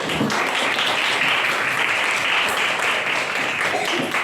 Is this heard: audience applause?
yes